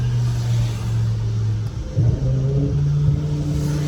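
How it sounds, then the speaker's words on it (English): BMW M5 S85 V10 engine with a lightweight flywheel, a steady droning idle-like tone that dips briefly and then climbs slightly in a short rev, heard from inside the car without talk. "it seems to be able to rev pretty easy"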